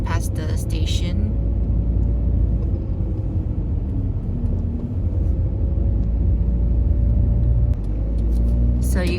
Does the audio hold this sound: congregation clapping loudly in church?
no